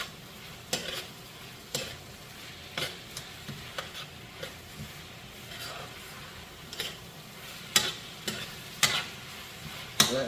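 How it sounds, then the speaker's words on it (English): Curry seasoning frying in a pot gives a soft, low sizzle, broken by a series of irregular scraping clicks as a utensil stirs and knocks against the pot, with no voices. "Let that fry down just a little bit."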